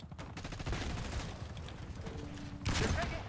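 Black Ops 6 multiplayer hardpoint match with sustained rapid gunfire from several weapons, dense and steady, flaring louder near the end, with game voice chatter underneath.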